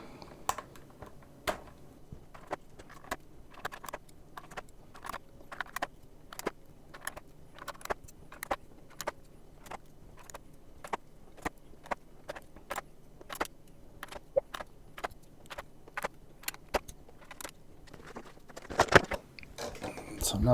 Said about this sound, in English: Right, pulling keycaps.